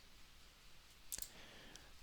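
A computer mouse clicks during a software lesson in Oracle Primavera Cloud, with a few faint, quick separate clicks in near silence.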